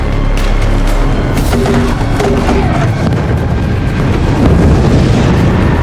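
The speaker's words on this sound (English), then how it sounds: "his men launched grenades into the community" Grenades launched into a fortified community in The Walking Dead: loud, dense booming blasts filling the whole span, with a continuous roar and rumble.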